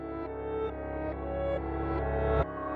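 An orchestral UK drill melodic loop from a sample pack plays, with layered sustained tones and a deep pulsing bass, shifting chords every half second or so and a heavy low hit near the end, no voices.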